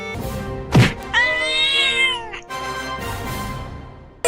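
A cartoon cat meows loudly and plaintively several times, with a sharp thunk early on and a louder drawn-out cry in the middle, close and clear with no talking.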